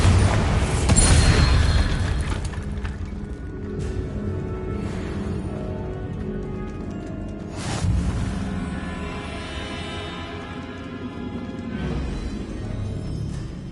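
A Bombarda spell explodes in Hogwarts Legacy: a loud booming blast near the start, then a second, smaller burst later, with rumbling, crackling debris and ambient game noise filling the space between.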